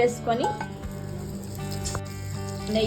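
Almonds and raisins frying in ghee give a continuous sizzle, with the clink of a utensil stirring the pan and a voice speaking over the cooking.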